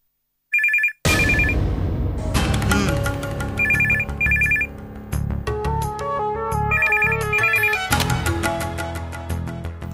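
A telephone rings loudly in a Tamil TV serial, a bright trilling ring repeating in short bursts over dramatic background music, with no speech.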